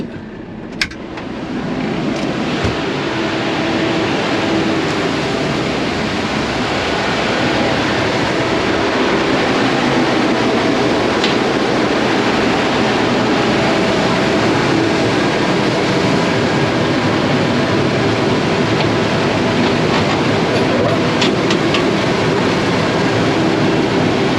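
A loud, steady roar of rushing, rattling wheat and machinery as a grain dryer is filled runs continuously, with occasional sharp clicks and knocks on top.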